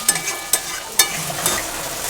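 Ground spice paste mixed with mustard oil hits a hot pan for a Bengali rohu fish curry with mango and potato, giving a steady close sizzle broken by a few sharp scraping stirs.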